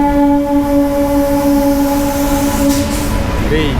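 A passing goods train rumbles loudly and close, with steady droning tones and clattering, and a brief higher squeal near the end.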